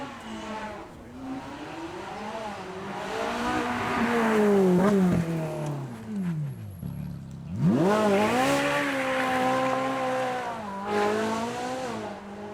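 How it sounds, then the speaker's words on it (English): A Ferrari V8 engine revving hard at a supercar event, rising and falling in pitch through several loud sweeps, with a brief dip between bursts, close and powerful. "be able to hear the absolute power of this gorgeous V8"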